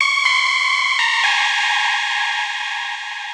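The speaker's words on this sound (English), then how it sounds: "adding some saturation with this destroy mode, which is really like a bit crusher" A loud, buzzy synth tone through a bit-crusher saturation effect holds steady notes that shift pitch twice, harsh and gritty, sounding crunchy and digitally degraded.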